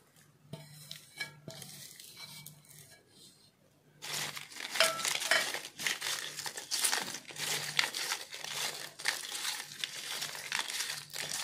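Banana chips mixed by hand with chilli powder, chaat masala, salt and cumin-coriander powder, quiet crinkling at first, then louder continuous rustling and crunching of the chips being tossed, with faint background voices.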